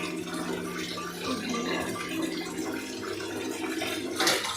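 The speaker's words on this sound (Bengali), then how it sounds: "কাতলা মাছটাকে ভালো করে ধুবেন" Running water over a catla fish being washed, a steady close splashing stream with a brief louder gush near the end, no voices.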